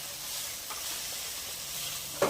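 Gochu japchae, pepper and pork strips, stir-fried with a spoonful of sesame oil in a wok, a faint steady sizzle with a soft stir midway and a brief louder clatter near the end.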